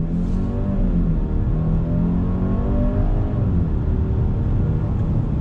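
A 2021 Genesis GV80 four-cylinder engine revs up under hard acceleration, a loud, buzzy drone climbing steadily in pitch from inside the cabin.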